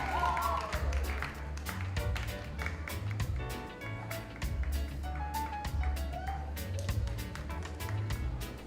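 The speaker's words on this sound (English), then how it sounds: "Keep that applause going as we also welcome the Green Island High School, nominee number 2." Audience applause at a performing arts awards ceremony welcoming a high school nominee, steady mid-level clapping with scattered sharp claps over a low rhythmic musical backing, lasting throughout.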